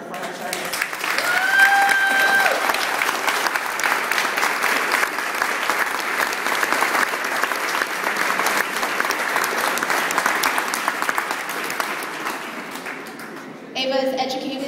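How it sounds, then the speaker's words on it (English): Crowd at a rights lobbying event applauding a military veteran, a steady, loud round of clapping sustained for many seconds before tapering, with a voice resuming at the very end. "I'd like to just ask for a round of applause for her service"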